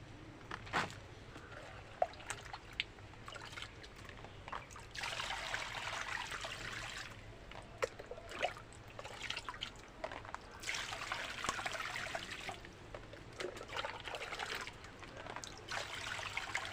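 Water pours steadily into a tub, trickling and splashing close by, swelling into stronger gushes at moments and easing back, with no voices.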